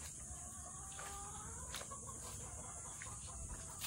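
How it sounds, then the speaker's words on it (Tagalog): Village chickens cluck in short, repeated bursts at a distance, faint over a quiet rural background with a steady high hiss. "Tapos may mga aso at manok."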